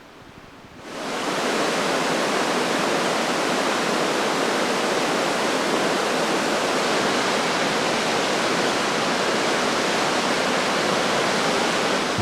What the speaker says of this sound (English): deep down in the valley, the untamed river carves its way through anything in its path.